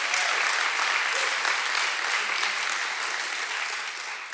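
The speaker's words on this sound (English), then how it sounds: "So let's give a clap to the football team." An audience applauds a school football team at an assembly, the steady, dense clapping filling the room at even loudness throughout and tapering only slightly toward the end.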